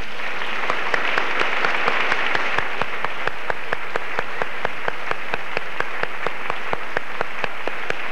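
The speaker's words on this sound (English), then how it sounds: "by our applause we might acknowledge the rightful share that they have in the honors of this evening" Applause from a graduation ceremony audience as the parents stand to be honored, a dense, steady clapping that fills the hall for several seconds and carries on alone without any voices.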